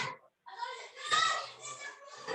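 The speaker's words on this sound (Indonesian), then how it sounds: "Ini karena di depan rumah saya banyak anak-anak main bola ini." Children call and shout while playing football in front of a house, their voices overlapping in a continuous, moderately loud outdoor chatter with a brief pause near the start.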